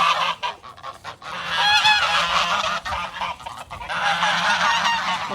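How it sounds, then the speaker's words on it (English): A flock of geese honks repeatedly and loudly at close range while being herded out to pasture in the morning, with bursts of overlapping calls separated by brief lulls. "get these geese out of here and take them in the pasture this morning"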